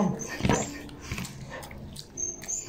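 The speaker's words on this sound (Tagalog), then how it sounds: "Yun yung aso ko." A dog whimpers and yips in short, high, whiny bursts close by, with a few soft whines trailing off.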